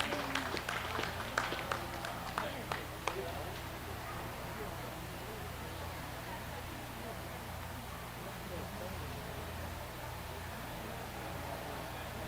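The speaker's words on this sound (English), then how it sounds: "let's go ahead and give our Brown Swiss exhibitors another round of applause for an excellent show today" An audience at a Brown Swiss dairy cattle show claps, with sharp, scattered claps at first that soften into a thinner, steady patter over a constant low hum. A voice talks over the clapping.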